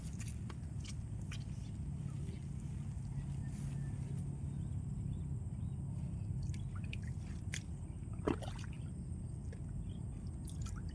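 Steady low rushing of flowing water fills the whole stretch, a constant churning current with occasional faint drips and splashes on top.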